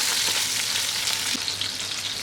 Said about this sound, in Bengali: এই মাছগুলো উল্টিয়ে ভালো করে ভেজে নেব।